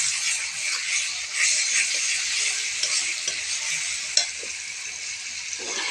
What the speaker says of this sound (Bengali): আমি দিয়ে দেবো এবার রসুন বাটা, তারপরে একটু নাড়িয়ে নেব।